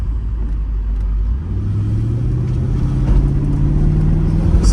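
A deep supercharged V8 growl from a 2003 Mercedes SL55 AMG rumbles steadily from inside the car, its pitch slowly rising as it accelerates, with no talking.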